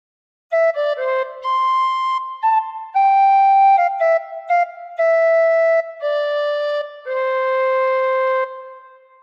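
Recorder playing the Joy to the World melody, clear breathy solo notes in short phrases separated by brief gaps, close and alone with no accompaniment.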